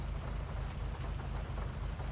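Steady rain in a GTA roleplay game world, a dense even hiss with a soft low rumble pulsing roughly four times a second underneath, alone with no voices.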